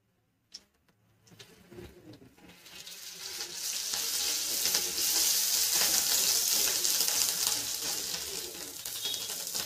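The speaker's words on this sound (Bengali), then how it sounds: "পেঁয়াজটা আমি একটু ভেজে নেব।" Onions frying in oil with ginger paste added while cooking an Indian vegetarian evening snack; a brief clatter, then a rising, steady sizzle that swells and holds close up, with faint stirring, no voices.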